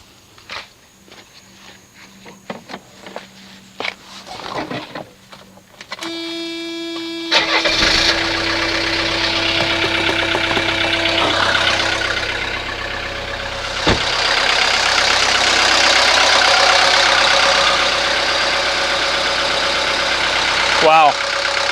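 A 1983 Mercedes 240D diesel engine cranks after some shuffling and handling noises, catches and fires up, then settles into a loud, steady, clattering idle that runs close by to the end.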